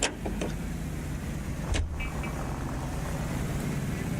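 A car drives in the video game L.A. Noire, producing a steady, muffled engine and road hum throughout. A brief bump or thud near the middle, and low voices sit faintly beneath.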